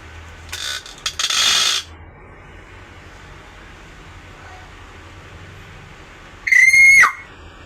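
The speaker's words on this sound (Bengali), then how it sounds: "এই যে এদিকে এদিকে এদিকে ময়না, জোরে ডাক দাও" A pet myna bird gives two short, shrill calls: a harsh burst near the start, then after a quiet gap a sharp whistled note that sweeps in pitch near the end.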